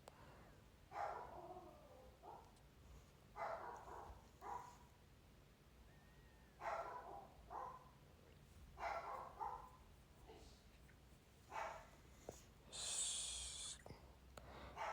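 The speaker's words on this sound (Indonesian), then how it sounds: "Guguknya siapa?" A pet dog indoors at night gives a series of short snorts and breathy barks in irregular bursts, moderately close, with a brief louder hiss near the end and no talking.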